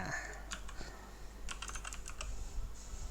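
Typing a program license key on a computer keyboard: quiet, close clusters of key taps in an uneven rhythm over a low, steady room hum.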